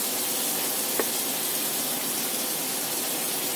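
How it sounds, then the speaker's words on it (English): Steaks searing in a hot pan give a steady, close, even hiss throughout, with one brief tick partway through. "While that side is searing"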